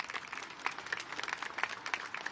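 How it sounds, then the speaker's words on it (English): Applause from an audience at an outdoor NYC DOT press event for the start of Harlem River Greenway construction, a steady patter of many hands clapping at moderate loudness with no voices over it. "So a big round of applause and thank you to everyone."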